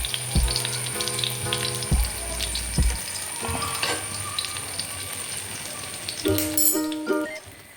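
Batter for an easy evening snack hisses and sizzles steadily in a pan over a low flame, with a few clinks and knocks of utensils on the pan.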